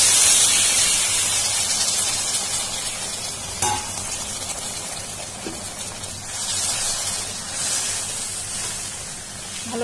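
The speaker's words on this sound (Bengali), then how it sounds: "এখন আমি এর মধ্যে অল্প জল দিয়ে দিচ্ছি।" Water is added to sizzling tengra fish masala in a pan, giving a loud hissing burst at first that settles into a steady, broad sizzle with a couple of faint knocks.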